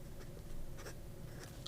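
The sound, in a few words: fountain pen with medium cursive italic nib writing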